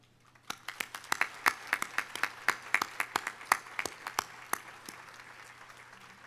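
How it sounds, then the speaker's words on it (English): Sparse, uneven applause from an audience at a college commencement ceremony, individual claps standing out clearly with no voices over it. "let us recognize our board with our applause"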